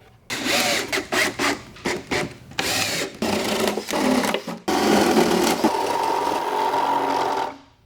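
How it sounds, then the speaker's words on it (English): A power drill bores drainage holes in a wooden planter box, loud close bursts of whirring and grinding that stop and restart several times before one longer continuous run. "we're going to drill some drainage holes in here so the moisture has somewhere to go"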